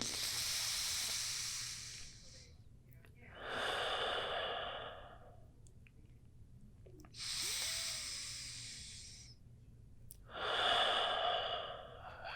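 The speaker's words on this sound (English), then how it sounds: "take 2 cleansing breaths" Four slow, deep breaths during a reclining side-lying yoga pose, each a soft airy exhale several seconds long with quiet pauses between, close and gentle over a faint low hum.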